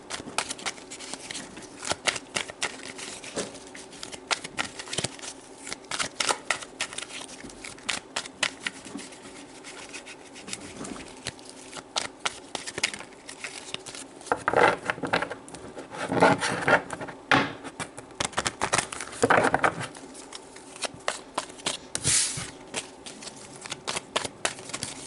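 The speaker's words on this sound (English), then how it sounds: "So let's pull some tarot cards to see what comes out." Tarot cards are shuffled by hand in a quiet room: a long run of soft, rapid papery riffles and rubs, getting denser and louder toward the middle, with no talk.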